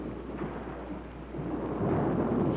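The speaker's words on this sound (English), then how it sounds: "Well, it's only thunder," Low, rolling thunder rumbles steadily through a storm, swelling louder toward the end, with a faint wash of rain underneath and no voices.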